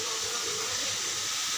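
Anchovies sizzle with salt in a hot pan, giving a loud, constant, close hiss with no pauses and no voices.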